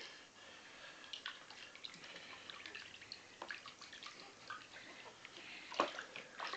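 Soft water splashes and drips in a newborn baby's bath, quiet and close, with small irregular sloshes and one sharper splash near the end.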